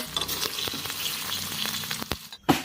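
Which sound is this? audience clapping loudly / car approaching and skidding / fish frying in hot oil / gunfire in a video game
fish frying in hot oil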